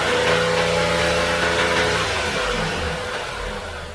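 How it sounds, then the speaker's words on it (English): A car engine held at high revs drones loudly with a steady harmonic whine, then eases off and winds down toward idle, with no talking. "So if I rev the engine, you'll see the RPM go up."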